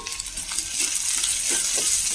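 Roasted gram, rock salt and green chilies sautéed in a pan, a soft continuous sizzle with light scraping stirs and small clicks, close and fairly quiet, no talk.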